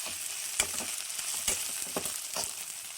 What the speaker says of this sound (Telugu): ఇట్లా వేసుకొని ఆయిల్ వేయించుకోవాలండి ఈ నీ అంతా పోయేటట్టుగా ఆయిల్లో శుభ్రంగా వేయించుకోవాలి మనం